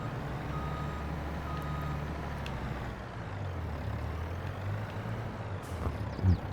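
A truck's reversing alarm beeps over a steady diesel engine rumble in Farming Simulator 22, on the Silverrun Forest map. Faint, evenly spaced beeps sit above the continuous low drone.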